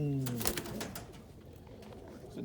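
A pigeon in a mating pen gives a soft, low cooing phrase near the start, followed by quieter rustling and faint background sounds; the whole is fairly faint.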